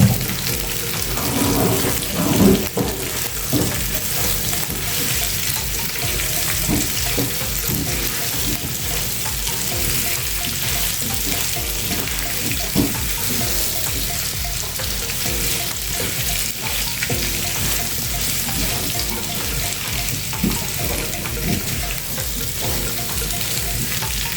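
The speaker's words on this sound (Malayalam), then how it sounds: "അത് നന്നായിട്ടൊന്ന് ഇളക്കി യോജിപ്പിച്ചെടുക്കാം." Whole pieces of tapioca (kappa) are stirred in a pan over steady frying sizzle, with a scattering of scraping and clattering movements running throughout and no voices.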